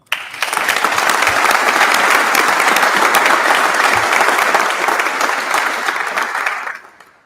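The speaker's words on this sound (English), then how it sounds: "How about a big round of applause for the entire team?" An auditorium audience at a naval aviation awards ceremony breaks into loud, dense applause that holds steady for several seconds before tapering off quickly at the close.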